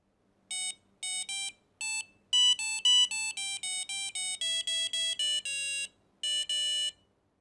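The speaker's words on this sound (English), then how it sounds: "In this sample code, you will hear the Suasana Hari Raya melody" A Maker UNO board's buzzer plays the Suasana Hari Raya melody as a run of clean, bright electronic beeps, each held note separated by short gaps, sounding alone and fairly faint.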